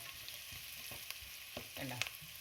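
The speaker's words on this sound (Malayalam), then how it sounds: "സബോള നല്ലോണം ഒന്ന് വാടി കിട്ടട്ടെ ഉള്ളി റെഡി ആയിട്ടുണ്ട്" Sliced onions for a coconut-milk-free neymeen (seer fish) curry sautéing in a pan, a faint steady sizzle with a few soft clinks of stirring, quiet and close with no voices.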